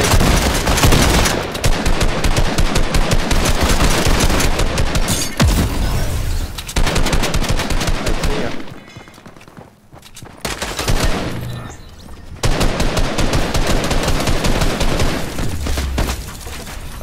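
Fortnite gunfire in a duos match: loud, near-continuous rapid shots and bursts that break for a brief lull, then resume heavily.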